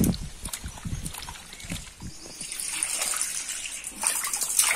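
Cut potatoes are washed by hand in water, with close sloshing and splashing in uneven bursts and a steady trickle of water running underneath.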